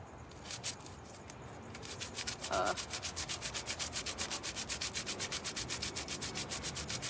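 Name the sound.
scraping with sandpaper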